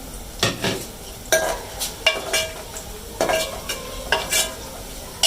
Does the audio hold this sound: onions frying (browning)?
yes